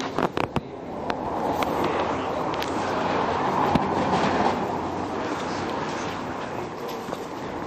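A train rumbles past with a steady broadband roar and faint rhythmic clatter, a few sharp clicks near the start, no voices.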